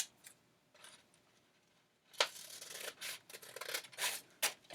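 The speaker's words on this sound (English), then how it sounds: "So I'll put a cut here" Scissors cutting paper for a cut paper lantern, a few quiet snips at first, then louder crisp rasping cuts in quick bursts, close up with no talking.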